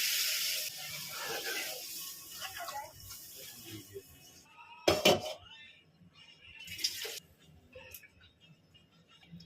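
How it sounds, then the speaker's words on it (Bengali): Water poured into a pan of fish curry made with ridge gourd and potato: a hissing, sizzling rush at the start, followed by scattered clinks of a utensil against the pan and a sharp clatter midway. "জল দিয়ে দিলাম।"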